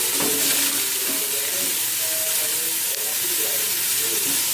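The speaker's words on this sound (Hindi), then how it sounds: "अब लहसुन अदरक का पेस्ट जो है वो ऐड करने के बाद ये अच्छे से भून जाए" Garlic ginger paste fries in a hot pan with a steady, close, dense sizzle and hiss that stays even throughout, with faint stirring and no talking.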